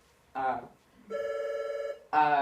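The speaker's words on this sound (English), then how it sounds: "Apologize for the phone." A telephone bell rings in two loud bursts with a steady harmonic tone between them, clear and close, inside a room during a talk on the St. Valentine's Day Massacre.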